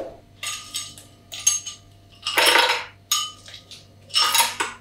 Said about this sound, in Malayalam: ഐസ് ഫിൽ ചെയ്യുക